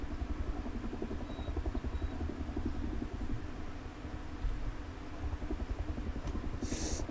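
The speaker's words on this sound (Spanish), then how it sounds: "Ojo, hay un helicóptero." A helicopter in the survival video game Rust sounds as a steady, throbbing rotor and engine drone, continuous and moderately loud, with no pause.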